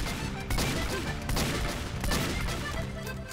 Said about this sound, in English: Oh, your heavy was shooting at me!